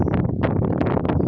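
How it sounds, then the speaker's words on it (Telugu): Strong wind buffeting an outdoor microphone, a continuous loud low rumble with gusty bursts and no pauses. "గాలి అయితే మస్తు వస్తుంది."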